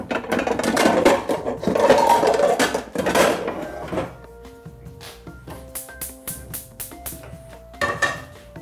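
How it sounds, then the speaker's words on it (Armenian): A frying pan set on a gas stove while cooking Armenian vegetable barley porridge: clattering metal knocks and scrapes up close, followed by a series of lighter rhythmic taps, with no voices. "Գազոջախին հայտնվում է տապակը։"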